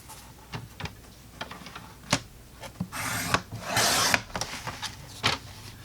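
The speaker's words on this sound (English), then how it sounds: "I'm going to trim this little 1/2 inch off first" A paper trimmer slices half an inch off a sheet of cardstock in a brief, close, scraping glide. Light clicks and taps come before and after the cut.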